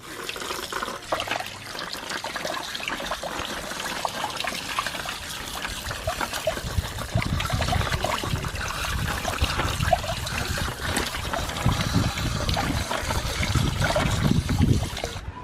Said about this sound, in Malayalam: അപ്പോൾ നമ്മൾ ചിക്കൻ നല്ലോണം കഴുകി റെഡിയാക്കി കൊണ്ടുവന്നിട്ടുണ്ട്